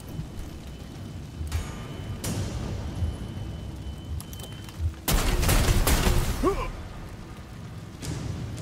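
Gunfire in the tactical game Necromunda Underhive Wars, a few sharp shots early, then a loud crackling burst of fire with a whooshing sweep, over faint ambient background.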